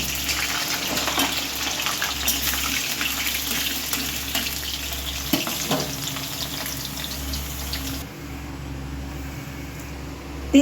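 Potatoes fry in hot oil with a steady, fairly loud hiss and crackle, a few soft stirring knocks, and a low hum underneath; no speech.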